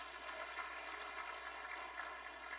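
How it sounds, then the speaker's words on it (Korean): A church congregation applauds during a Sunday service as two deacons are newly appointed; the clapping is dense, even and sustained, with the crowd sound filling the room throughout and no voices standing out. "우리 힘있게 박수 한번 드리겠습니다"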